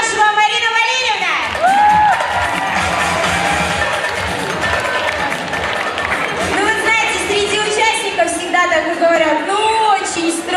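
Audience applause at a televised talent show selection round in a culture hall, a loud, dense wall of clapping, cheering and shouting that holds steady throughout, with a presenter's voice riding over the crowd.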